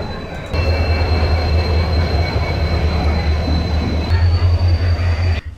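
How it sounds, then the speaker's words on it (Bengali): The Tamralipta Express from Howrah toward Digha runs on the rails with a loud, steady rumble from inside the train, with thin whining tones above the rolling wheels. "তাম্রলিপ্ত এক্সপ্রেস ধরে আমরা পাড়ি দিয়েছিলাম আমাদের আজকের গন্তব্য দীঘার উদ্দেশ্যে"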